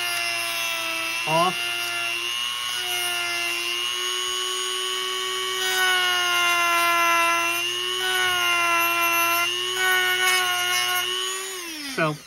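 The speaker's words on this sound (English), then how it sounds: "I'm just grinding it down" A high-pitched rotary power tool grinds down deck detail on a 1:200 RC RMS Titanic model, a steady whining drone running continuously and close up, with a brief spoken word near the end.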